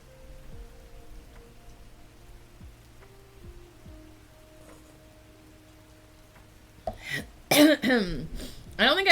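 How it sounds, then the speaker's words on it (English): A person coughs several times in quick succession, loud and close, after a quiet stretch of soft background sounds. "sorry for all the coughing as well"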